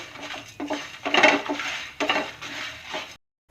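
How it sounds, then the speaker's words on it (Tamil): Fennel seeds and dried red chillies roast over medium heat in a pan for chicken ghee roast. A spoon stirs and scrapes in a few close, rustling strokes with light metallic clinks, then stops abruptly. "சேர்த்துட்டு மிதமான தீயில நல்லா வறுத்து விட்டுக்கலாம்."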